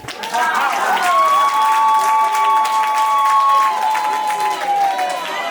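A crowd applauds and cheers at a Zulu umemulo coming-of-age ceremony for five young women in Kranskop, with dense continuous clapping and a voice rising above the noise.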